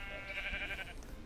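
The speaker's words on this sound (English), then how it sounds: "Look at these freaking sheep." Sheep in the video game Minecraft bleating in one sustained nasal cry, moderately loud, then trailing off into quiet background with no speech over it.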